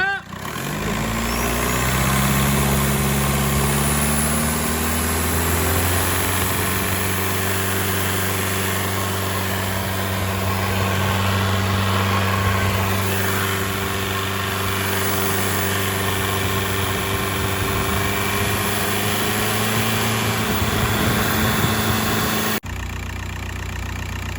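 The diesel engine of a Volkswagen Jetta TDI with an oil leak revs up and holds a steady, fairly loud raised drone for about twenty seconds before cutting off.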